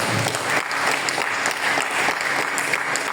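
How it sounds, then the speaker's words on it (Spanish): A church congregation gives loud, sustained applause with a faintly rhythmic pulse running through the dense clapping, and no one speaks over it. "Den un fuerte aplauso a Dios"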